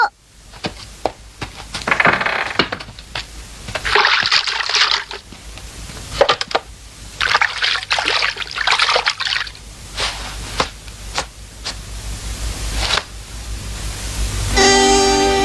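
Water runs and trickles in uneven bursts of splashing as a child washes hands, mid-loud and close, with brief gaps between pours and a short musical tone at the very end.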